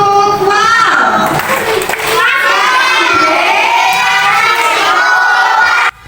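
A classroom of children shout a clapping chant called tepuk wow, with loud, close voices and hand claps filling the room together for several seconds before stopping abruptly.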